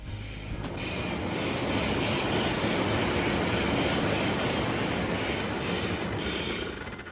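A prewar Lionel 226E model electric locomotive rumbles steadily along its track in a cold garage, a continuous dense rolling noise that swells in after a brief start and holds loud throughout.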